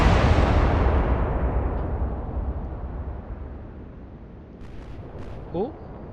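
Naval gunfire from a warship in Atlantic Fleet, a WWII combat game: a loud broad blast at the start rumbles and slowly fades over several seconds, followed by a faint short whistle near the end.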